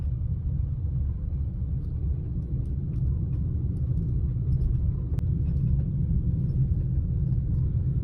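A vehicle creeps at low speed along a forest track at night in Jim Corbett National Park, giving a steady, deep engine rumble with faint rattles and clicks and no talking.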